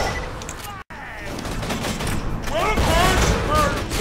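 A bullpup gun in Borderlands 2 firing short bursts, rapid clustered shots under dense game noise, with a brief silent gap early and someone talking over it.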